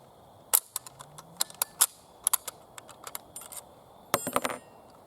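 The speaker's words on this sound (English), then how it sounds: "we're going to do another 5 rounds at 100 yards" Shots from a British P14 Enfield rifle fired at a 100-yard target, heard as about a dozen sharp, fairly faint cracks spaced irregularly, with a tight cluster near the end and no talking.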